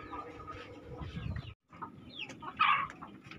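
Free-range village hens in a breeding pen cluck and murmur softly at close range, with a louder squawk near the end and a voice talking low underneath.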